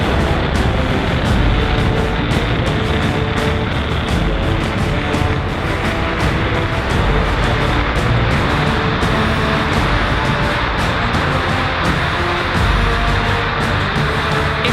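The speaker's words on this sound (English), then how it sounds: "Falcon 9 has successfully lifted off from Space Launch Complex 40 at 6:13 p.m. Eastern Time" Falcon 9 rocket lifting off from Space Launch Complex 40 on a Starlink mission, a continuous, loud broadband roar with deep rumble and crackle that holds steady throughout, no speech.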